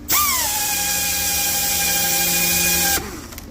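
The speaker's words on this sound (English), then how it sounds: "I just got my Sioux drill in here" A loud electric drill driving a small-block/big-block Chevy engine oil pump on a test rig whines steadily for about three seconds at close range, its pitch holding level, then cuts off abruptly.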